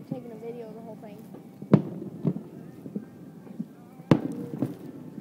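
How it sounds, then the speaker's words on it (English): Fireworks display with two sharp, loud bursts a couple of seconds apart, each followed by crackling, over a steady background of people talking nearby. "Until they run out of fireworks."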